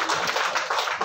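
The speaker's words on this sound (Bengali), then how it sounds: "ফলে ওর জন্য একটা বড়সড় হাততালি।" Short burst of clapping for a cricketer, steady and fairly close, lasting about a second with no talk over it.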